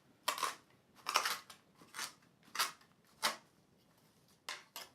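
Plantain leaves being cut up for salve, heard as a series of about eight crisp snipping or chopping strokes at an uneven rhythm, close and fairly quiet with no talk.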